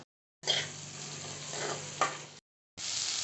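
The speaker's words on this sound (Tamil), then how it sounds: "சேர்த்துட்டு நல்லா வதக்கி விட்டுடலாம்." Close-up sizzling and hissing of ginger and garlic frying in a hot pan, with a stirring scrape partway through, cut off briefly before the sizzle resumes.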